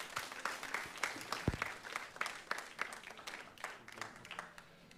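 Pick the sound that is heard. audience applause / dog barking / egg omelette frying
audience applause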